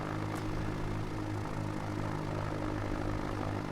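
Steady, close droning hum of a light propeller plane taxiing at the edge of a runway, engine tone constant with low harmonic bands and no voices.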